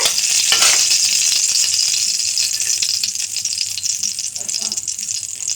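Whole spices for tempering sizzle in hot oil for masoor lentil dal with tomato, giving a loud, close, continuous crackling fry with small pops throughout.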